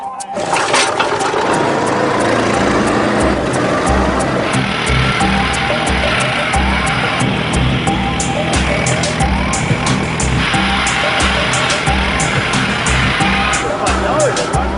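A four-wheel drive dune buggy in desert dunes, its engine starting and then droning loudly and steadily as it drives, with a person talking over the noise throughout.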